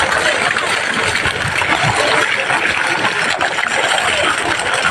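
Water gushing steadily from the outlet of a solar-powered borewell pump, drawn by a motor set 160 feet down a 1500-foot bore, a loud continuous rushing flow heard close up with no break.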